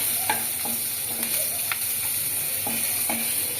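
Sliced green chillies and onions fry in a pan with a loud, continuous close-up sizzle, broken by regular scraping strokes of a spatula.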